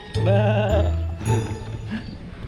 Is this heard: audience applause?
no